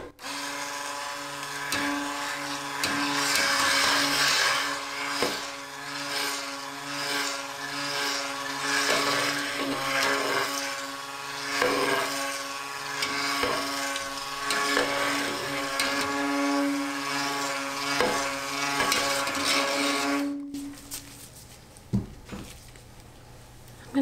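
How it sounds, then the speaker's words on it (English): A stick blender mixing lye into soapmaking oils in a big pot, a steady motor whir with a strong hum running for about twenty seconds, with occasional knocks, then it cuts off. "So I'm gonna get the lye blended into the oils."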